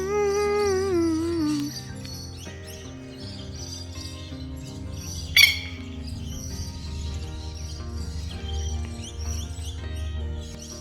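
Birds on an outdoor road under cloudy skies: a few chirping calls with sliding pitch open the clip, then a single sharp call cuts through a quiet outdoor backdrop, fairly near.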